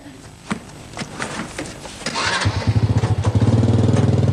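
A motorcycle engine sputters to life with a few rough clicks and pops, then settles into a loud, close, steady idle throbbing with rapid pulses.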